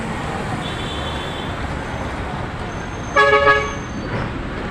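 Busy Sunday road traffic rumbles steadily, with a short car horn blast midway and a fainter toot before it, heard nearby amid the general engine noise.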